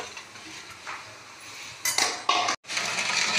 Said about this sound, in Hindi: तब मैं इसमें चावल शामिल करूँगी।